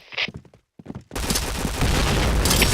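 Grenade blast and heavy gunfire in the shooter game Point Blank: a few sharp shots at first, then a sudden loud explosion that runs into a dense, sustained roar of rapid gunfire.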